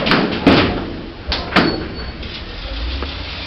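A hospital lift door at King's College Hospital slides and closes, giving a few firm thuds and a rattle followed by the low hum of the lift car, with no talking.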